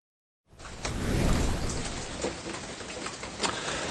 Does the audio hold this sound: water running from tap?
no